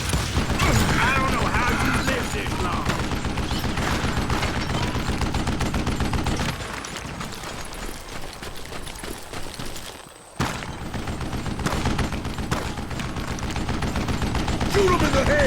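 Rapid gunfire from Call of Juarez: Gunslinger, a dense, loud run of shots and mechanical clatter that dips into quieter rumbling midway, cuts out briefly, then resumes with more shots, with game voices speaking over it.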